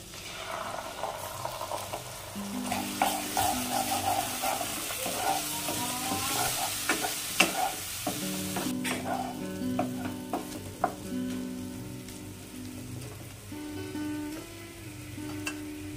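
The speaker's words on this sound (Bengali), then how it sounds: "আলুগুলো 2 মিনিট মতো ভেজে নিয়েছি। দিয়ে দেব পোস্ত সর্ষে বাটা।" Potato pieces fry in a pan as poppy seed and mustard paste goes in, a steady close sizzle with stirring scrapes and bubbling, loudest mid-clip and easing toward the end, with no talking.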